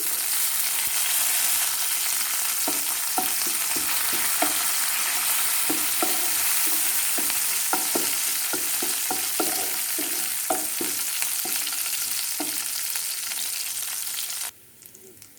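Oil sizzles steadily with a loud, continuous hiss while cumin, crushed garlic and curry leaves crackle and pop irregularly, then the sizzle cuts off abruptly near the end.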